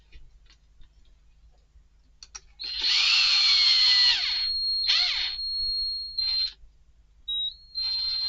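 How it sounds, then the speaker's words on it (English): A power drill whirs up in a few high-pitched bursts, its motor pitch wavering and stuttering between short pauses, close and loud. "when I hear a drill doing this"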